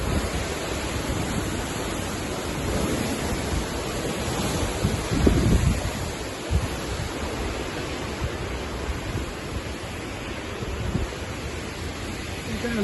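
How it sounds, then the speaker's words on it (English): Strong storm wind roars steadily across a Scottish croft garden, battering the tall willow at its centre. The broadband rush stays loud and continuous with a few stronger gusts, and a voice talks briefly beneath it. "That high up, it's getting the full strength of the wind."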